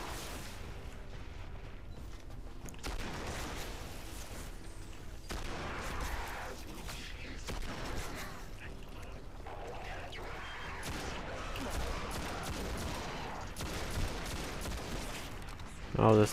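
Gunfire in the video game Destiny crackles in repeated bursts and rapid volleys amid other game effects, with people talking over much of the action.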